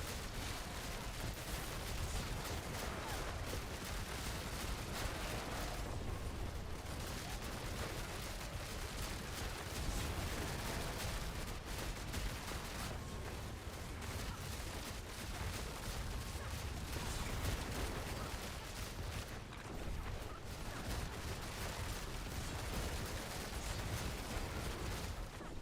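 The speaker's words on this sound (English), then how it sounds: "when you do like the grenade version, you have like this giga fucked sound effect" A rapid-fire grenade attack in the video game Diablo 4 makes a dense, continuous barrage of overlapping blasts and crackles that stays loud and unbroken for the whole stretch.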